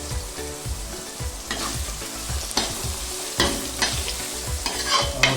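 Onion, ginger and green chilli frying with a piece of asafoetida in a pan for a raw mango curry, a loud, close, continuous sizzle punctuated by repeated rhythmic stirring scrapes and clinks, with no talking.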